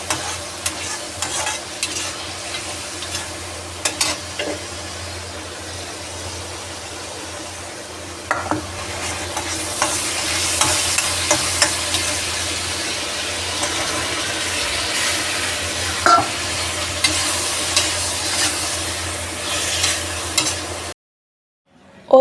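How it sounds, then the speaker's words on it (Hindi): Vegetables frying and being stirred in a pan, a continuous close sizzle with scattered scraping clicks of the utensil, loudening partway through before stopping abruptly near the end. "सब्जी छकने लगी थी।"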